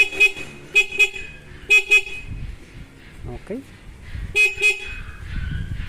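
A stock car horn, wired to the passing light switch, toots in short paired blasts, several times with pauses between, close by; someone briefly speaks in the middle.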